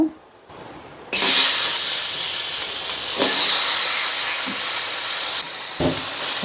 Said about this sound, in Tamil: தக்காளி இப்போ வந்து சூடு பண்ணிக்கலாம் அதாவது வதக்கிக்கலாம் கடாயில் போட்டு